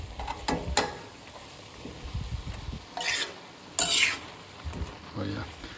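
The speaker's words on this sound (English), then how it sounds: "Now it makes for a nice brothy saute in there" Mushrooms sauté in a pan with a soft, brothy sizzle, broken by several sharp clanks and scrapes of stirring against the pan, fairly quiet and close.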